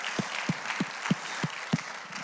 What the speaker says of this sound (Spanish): Démosle un aplauso a todos los voluntarios